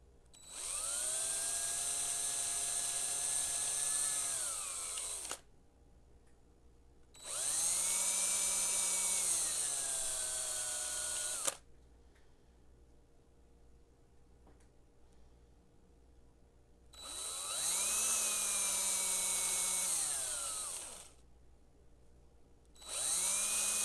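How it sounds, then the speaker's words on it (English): A power drill fitted with a pin vise runs in three long bursts, each whining up and steadily holding a high buzzing pitch before cutting off, with quiet pauses between as holes are drilled one after another. "I stuck my pin vise in the end of my drill"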